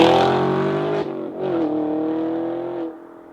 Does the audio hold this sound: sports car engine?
yes